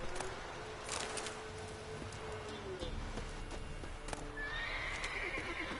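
Horse whinnying alongside clip-clopping hooves in The Witcher 3 video game, heard faintly through ambient game sound with scattered thuds and a soft tonal note near the end.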